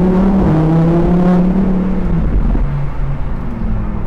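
A Lamborghini Huracan EVO supercar driving, its engine droning and shifting pitch as it accelerates, heard close and loud from inside with a steady road rumble.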